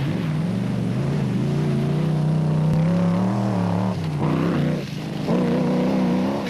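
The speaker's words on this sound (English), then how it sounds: "listen to that engine taking stick in the mud" A rally truggy's engine labors loudly and steadily while stuck in mud during the 2006 Lesotho Sun 400 rally, pitch wavering as it strains and surges, dipping briefly before pushing on again. No voices.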